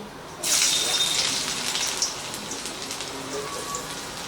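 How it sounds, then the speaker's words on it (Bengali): Chopped ginger and garlic hit hot oil left from frying eggs, bursting into a loud, dense sizzle that settles into steady crackling. "আদা রসুনটাকে একটুখানি ভেজে নেব"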